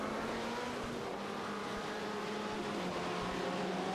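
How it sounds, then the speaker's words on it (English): LMP1 prototype race cars roar past together at Curva Grande on an Italian circuit during a sports car championship race, their engines making a loud, continuous layered drone with no pause. "LMP1's arrived again, and they've managed to catch them all in Curva Grande"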